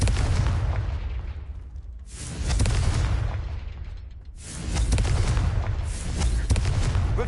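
Confringo blasting spell explosions in Hogwarts Legacy: a sustained, loud, roaring blast, then two more heavy booming bursts with rumbling decay, close and dense, no talking.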